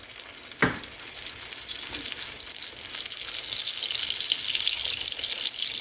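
Aloo naan sizzles steadily in oil on a tawa after being flipped, with oil added around the edges; a sharp clink comes early, then a constant close crackle with no talking.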